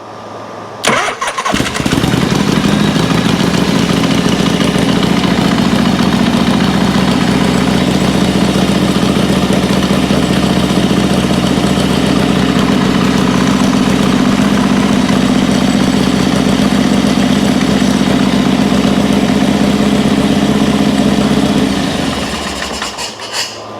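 A 1982 Harley Shovelhead FXR with an S&S carburetor starts and settles into a steady, loud, close idle with a deep rumbling throb that runs unbroken for about twenty seconds before cutting off.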